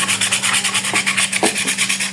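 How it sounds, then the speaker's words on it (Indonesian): A motorcycle cylinder head is hand-sanded with 320-grit sandpaper wetted with petrol, giving steady rhythmic back-and-forth rasping strokes, close and fairly loud. "Terserah pakai amplas apa aja. Ini saya pakai amplas ukuran 320."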